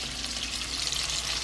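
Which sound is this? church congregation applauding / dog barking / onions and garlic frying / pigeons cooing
onions and garlic frying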